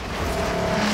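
A Ford Raptor engine in the racing game Forza Horizon 4 gives a steady, sustained drone that stays level and loud for about a second, with no voices.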